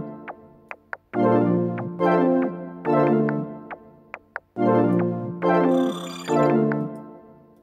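A hip-hop beat built from chopped synth percussion samples, with a main melody and bass notes: short percussive blips lead into bouncing, sustained melodic chords with heavy low end, repeating in a steady loop.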